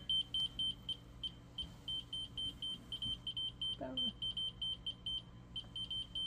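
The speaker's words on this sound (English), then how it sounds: "Just get past the beeping for a minute here." A 2016 Jayco Greyhawk 29ME RV control panel sounds a warning: a rapid string of high, shrill electronic beeps in short bursts, fairly close, with a voice briefly heard underneath.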